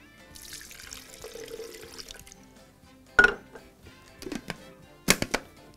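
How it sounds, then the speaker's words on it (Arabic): Water trickles and splashes into a blender holding kiwi, with a few sharp clinks of glass standing out near the end; close and fairly quiet, with no voices. "حط شويه ميه،"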